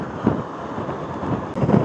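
Strong 30-mile-an-hour wind buffets the microphone on a cruise boat deck near Meares Glacier in Valdez, Alaska, a loud, continuous rumbling roar with gusty bursts.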